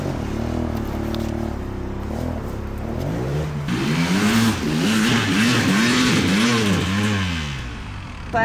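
An enduro motorcycle engine idles, then revs up and down repeatedly in rising and falling throttle blips, close and loud outdoors, with no talking.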